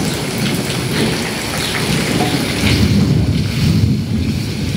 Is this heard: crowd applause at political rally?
no